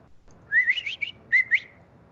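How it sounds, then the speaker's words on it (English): A game bird calls from a wooded autumn setting, a short series of clear whistled chirps in two quick bursts with a pause between, fairly close against quiet surroundings. "That's a game bird."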